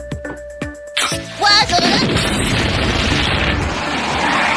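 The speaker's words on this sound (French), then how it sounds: "une explosion avait eu lieu chez les Simpsons" Cartoon explosion at the Simpsons' house: a few soft knocks, then a sudden loud boom that settles into a sustained rumbling roar of debris and fire.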